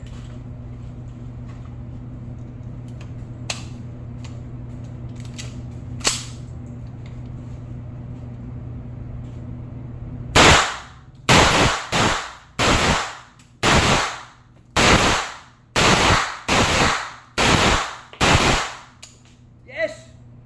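Gunfire at an indoor target shooting range: a steady hum with a couple of faint distant shots, then about a dozen loud close shots in a quick, uneven rhythm.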